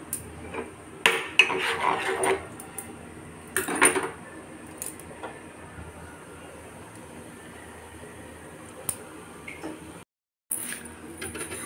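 A spoon stirs oats with milk in a pot, giving a couple of short bursts of scraping and clinking early on, then fading to a quiet, steady background hum.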